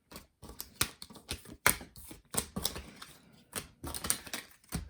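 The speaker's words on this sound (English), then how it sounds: "Let's go ahead and quickly do shuffle of this this card over here." Playing cards being shuffled for a Mandalorian-themed tabletop card game, a quick run of crisp, riffling bursts in short irregular clusters, close and fairly clear with no talking.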